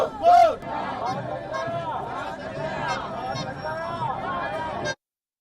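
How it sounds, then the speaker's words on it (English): Protesters in a mass walkout in Colombo make a steady roar of voices and chanting, with one loud shout near the start and rhythmic crowd cries throughout before it cuts off. "A big crowd has permanently been camping outside the presidential secretariat"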